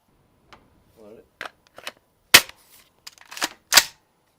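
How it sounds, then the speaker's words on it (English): A 5.56 rifle fired at an empty beer can, with one sharp close gunshot and a second loud crack moments later among brief clicks and handling noises; a few short voice sounds in between. "Firing."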